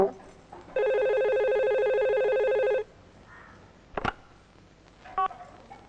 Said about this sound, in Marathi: सुमन, क्राईम ब्रँच मधनं फोन आला असेल.